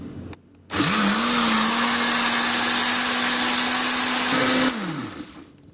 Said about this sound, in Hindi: अब इसको ब्लेंड कर लूंगी।